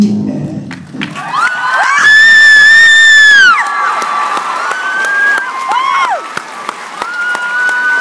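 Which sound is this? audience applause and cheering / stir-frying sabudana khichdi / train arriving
audience applause and cheering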